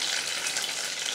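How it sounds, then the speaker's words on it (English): Stuffed chilli peppers shallow-frying in hot oil in a wok, a continuous loud sizzle and crackle filling the whole moment with no voices. "If you're sort of shallow frying it like that"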